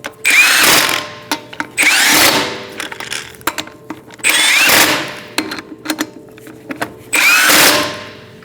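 A power impact tool tightening wheel lug nuts on a Chevrolet HHR, four loud, sharp rattling bursts spaced about two seconds apart, with small clicks and clatter between them and no talking.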